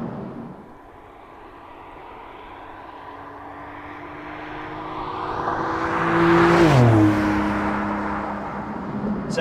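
A Porsche 911 Turbo S of the 992 generation accelerating hard with PDK gearbox, a steady engine roar rising in pitch and volume to a peak, then a quick gear change drop, heard alone.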